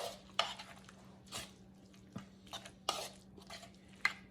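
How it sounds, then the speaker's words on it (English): A spoon works through a salmon patty mixture with crackers, parsley and onion in a bowl: soft, intermittent scraping and mushy stirring strokes separated by quiet pauses, close but faint, without speech. "stir this up a little bit"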